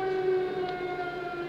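Air raid siren in the War Thunder video game: a steady, sustained wailing tone with layered harmonics, loud and continuous for the whole short moment, alone with no voices.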